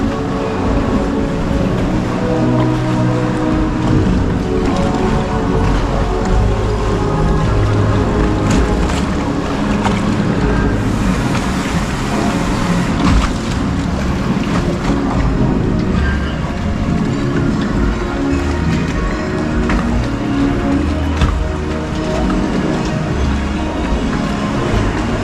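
Log flume water ride at Europa Park, heard as a steady, loud rush of churning water and rumbling machinery, broad and continuous throughout with no talking.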